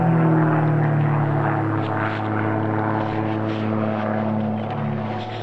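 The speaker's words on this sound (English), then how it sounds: "Can you hear that plane?" A fixed-wing airplane flying overhead near an airstrip in the evening, a steady droning propeller engine hum that holds constant and loud throughout without talk.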